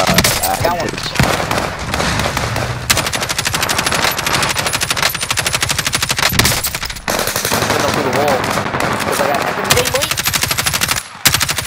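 Rapid automatic gunfire rattles loud and close in a Warzone firefight, bursts of machine-gun fire running almost nonstop with short breaks, while players talk over the shooting.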